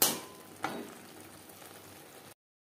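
Pointed gourd cooking with spices in a pan gives off a steady, soft frying hiss, with a brief louder burst of sizzle early on before it settles into a quiet, even crackle.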